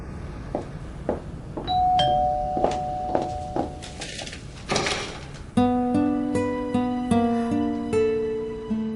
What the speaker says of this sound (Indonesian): Hansiu, seseorang membunyikan bel dan membuka pintu.